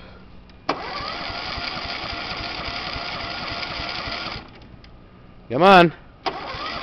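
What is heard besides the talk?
John Deere 14SE self-propelled lawn mower engine starting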